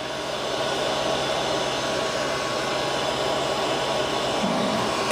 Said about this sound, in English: Got my heat gun all ready to go, and I'm going to go ahead and turn that on and get to shrinking.